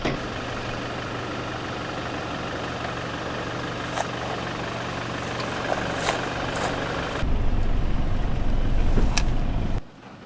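Stock 2020 Toyota Hilux crawling downhill over a rocky off-road section, its engine a steady low drone close by, with occasional clicks and knocks from the rocks and a louder, rougher stretch near the end before it cuts off.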